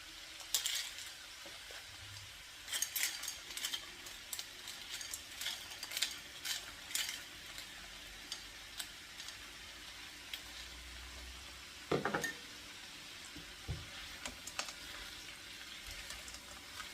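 Frozen peas tipped into a hot pan for a Chinese-style dish, setting off a steady sizzle and frying crackle with a few louder stirring bursts and clatters, close and fairly quiet with no talk.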